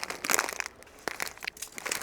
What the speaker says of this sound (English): Plastic bag for trash.